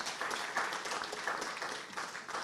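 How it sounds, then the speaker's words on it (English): An audience applauds a student team at a hackathon award ceremony, a continuous, even wash of many hands clapping at moderate loudness for a couple of seconds. "Okay, big applause to RF Dream."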